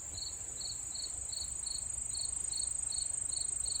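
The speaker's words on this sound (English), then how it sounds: "everything else just got really quiet, except this cricket over here" A single cricket chirps in steady, evenly spaced pulses, close and clear against an otherwise quiet night with a faint low rumble beneath.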